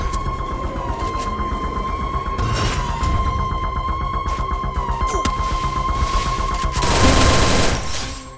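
Sustained automatic MP40 fire in the Garena Free Fire battle royale, loud rattling bursts running almost continuously, with booms and a constant hum behind them and a heavier burst near the end.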